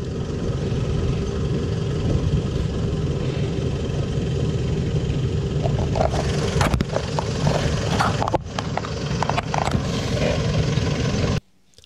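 A Mitsubishi Triton 4WD climbs a small sand dune on the VIC/SA Border Track in the Australian desert, its engine droning loud and steady with a few bumps and knocks toward the end before cutting off abruptly.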